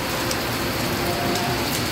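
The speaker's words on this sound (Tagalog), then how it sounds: "Pero umuulan." Heavy rain pours down in a loud, dense, unbroken hiss close by, a constant drumming on surfaces with no voices over it.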